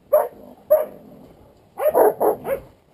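Hunting dogs bark in a few sharp, loud bursts close by, two single barks followed by a quicker run of three or four, with no talking.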